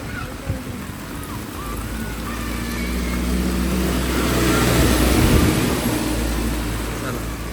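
Heavy rain on a walk through a village lane pours down in a dense, continuous hiss that slowly builds louder, with a low rumble underneath and a few sharper splashes near the start.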